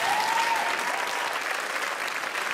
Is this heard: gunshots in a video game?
no